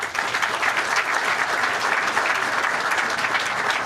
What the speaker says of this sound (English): let's give our governor a great round of applause